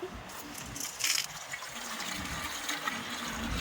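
Liquid plant solution pours steadily into a container in a rooftop terrace garden, a continuous close watery gush with a brief louder splash near the start and no talking.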